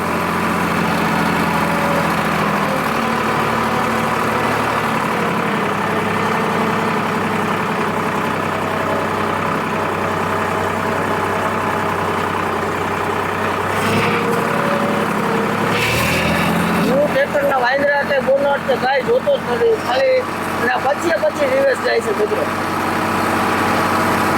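A tractor engine runs steadily at a low idle while reversing in a farm field, then revs and rattles harder near the end, with voices talking over it throughout.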